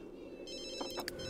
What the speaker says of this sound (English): You need to answer your phone.